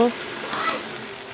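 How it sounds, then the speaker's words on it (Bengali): A steady crackling sizzle of potatoes frying in hot oil in a pan, close and continuous, with a faint voice fading out at the very start. "দেখো আলুগুলোকে লাল করে ভাজা হয়ে গেল, আরও কিছু সময় ভেজে নেব"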